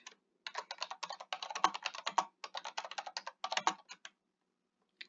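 Brisk typing on a computer keyboard while writing a quarterly grant report, close and clear keystroke clatter in steady bursts with brief pauses in a quiet room.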